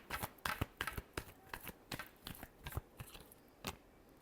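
Tarot cards are shuffled by hand in a quick series of soft, crisp riffling flicks, close and fairly quiet, in an irregular rhythm with brief pauses.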